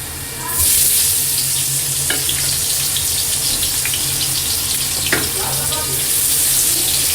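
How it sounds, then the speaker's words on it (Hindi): A kitchen exhaust fan runs loudly while raw mango launji cooks, giving a steady, close broadband whoosh that starts suddenly and continues unbroken, with a few faint clinks from the stove beneath it. "एग्जॉस्ट की बहुत तेज़ आवाज़ आ रही है वीडियो में"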